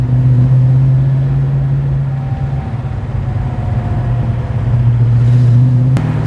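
Car converted to FiTech throttle-body fuel injection pulling away smoothly from a stop, a steady low engine drone rising gently in pitch as it accelerates, close and continuous with no voices.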